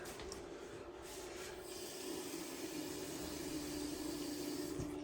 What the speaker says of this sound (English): You probably hear something going in the background going, it's this printer right here.